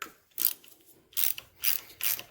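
A ratchet wrench loosening 5/16 starter cover bolts on a single-cylinder Briggs and Stratton engine from a race mower: three or four short, close bursts of fast clicking, separated by brief pauses.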